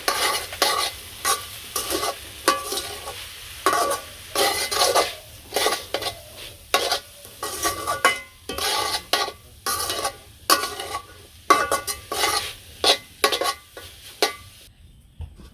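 Fish frying in a pan in a village kitchen, a quiet sizzle beneath repeated scraping stirs of a utensil against the pan in irregular bursts, close and alone.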